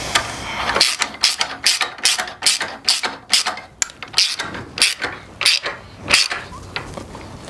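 Ratchet wrench tightening bolts on Impaktech race rails, a fast close series of sharp clicking ratchet strokes repeating in quick bursts with brief pauses, loud and alone.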